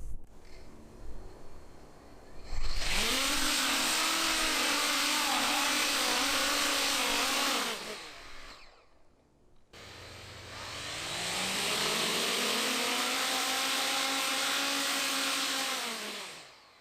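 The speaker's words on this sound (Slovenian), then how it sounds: "Potrebuje polno moč, da se dvigne stal, zato me malo skrbi, da bi se motorji pregreli." Coanda-effect drone with impeller motors run at full power to lift off: two long bursts of loud, steady high-pitched whine, each spinning up, holding and winding down, with a brief quiet gap between them.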